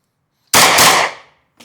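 Assault rifle fired outdoors on a shooting range during training, one loud sharp report that fuses into a single blast with a long decaying tail and a fainter follow-up sound about a second later.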